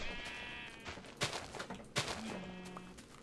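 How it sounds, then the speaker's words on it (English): A sheep bleating in a blocky sandbox survival game, with a few wavering bleats, two sharp thuds between them and a low hum at the end, all fairly close and clear against a quiet background. "What you got there, sheep?"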